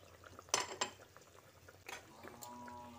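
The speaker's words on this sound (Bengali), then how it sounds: "তারপর গ্রেভির সঙ্গে একবার হালকা হাতে মিশিয়ে নিচ্ছি" A spoon clinks and scrapes in a pan as stuffed fried pointed gourd is gently mixed into a simmering gravy, with a few sharp knocks and soft stirring noises, fairly quiet and without talk.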